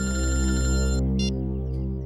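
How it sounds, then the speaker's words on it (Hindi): A telephone ringtone sounds loudly and close by, a sustained tonal electronic ring that breaks off after about a second, followed by a couple of short, fainter bursts. "दया सर का फोन।"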